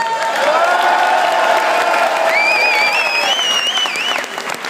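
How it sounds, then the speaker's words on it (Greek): Loud crowd applause mixed with cheering and whoops at an MC battle final, dense clapping throughout with whistled or shouted tones rising over it partway through, then easing slightly. "Ένα χειροκρότημα για τον Βέρσους"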